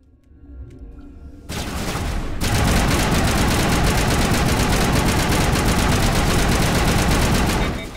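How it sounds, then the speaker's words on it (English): Rapid automatic gunfire erupts in a Mass Effect firefight, a sustained, loud burst of tightly spaced shots that starts after a short quiet lead-in and continues without pause to the end. "Open fire!"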